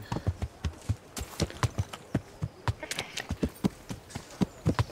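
Horse hooves clip-clop at a brisk, regular pace in Kingdom Come: Deliverance, crisp close hoofbeats repeating steadily throughout, with some faint talk underneath.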